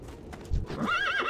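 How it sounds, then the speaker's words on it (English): A horse in World of Warcraft clip-clops briefly, then lets out a rising and falling whinny near the end, close and moderately loud with no talk. "Okay, so I gotta ride this horse"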